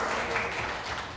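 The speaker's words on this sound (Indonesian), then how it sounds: "Kita beri tepuk tangan." Classroom applause from a group of students, a brief steady burst of clapping lasting about a second at moderate volume.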